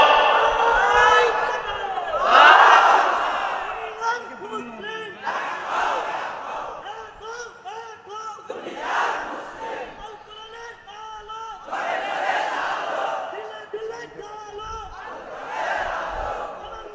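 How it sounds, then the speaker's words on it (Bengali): A large crowd at an Islamic religious gathering in Sagardari, Jessore, loudly shouting takbir in repeated waves, each chant swelling and fading in rhythmic call-and-response bursts. "জোরে তাকবীর দাও"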